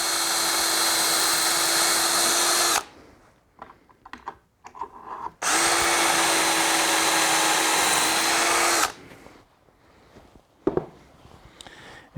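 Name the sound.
power drill boring through wood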